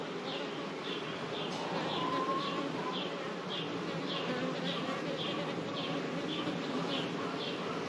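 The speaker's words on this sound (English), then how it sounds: "see how the bees are behaving on the frames" Honey bees buzz steadily across hive frames during an April colony inspection while checking for a virgin queen, a continuous close droning hum with no talk.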